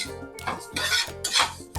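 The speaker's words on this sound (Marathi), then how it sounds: "हे छान आता आपण मस्त खरपूस भाजूया" Repeated scraping and stirring in a metal pan, a spoon pushing dry-roasting spices such as coriander and fennel seeds around in quick strokes with a faint crackle, close up and without talk.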